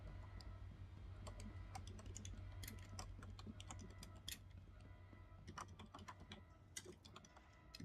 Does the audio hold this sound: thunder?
no